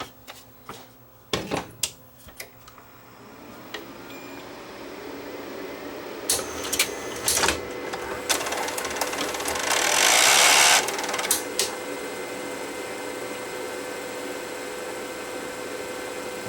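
Sony DNW-A30P videotape deck with an SX tape loaded, its transport mechanism whirring and spinning steadily after a series of clicks and clunks, with a continuous motor drone and no talking.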